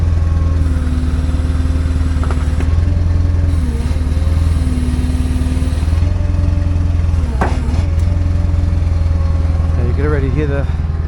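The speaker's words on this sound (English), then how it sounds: "Hear the wheel going into the fender." A Mustang with a broken ball joint, its wheel rubbing against the fender while an engine drones loudly and steadily throughout, with occasional scraping and a voice briefly in the background.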